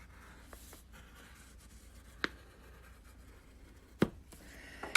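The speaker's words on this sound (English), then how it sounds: "A little bit easier to draw it on here." Pen drawing a design onto a surface for a vase pattern, faint scratchy strokes with a couple of sharper taps against a quiet background hum, close, no talking.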